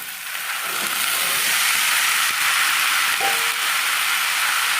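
Chilli, capsicum and potato frying in hot oil in a pan, a loud steady sizzle with faint scrapes of stirring, close up and without talk.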